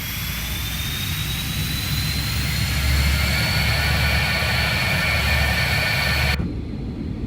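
Jet engines of a BAE 146 airliner spool up in a flight simulator, a loud steady roar with rising whine throughout before cutting off abruptly near the end.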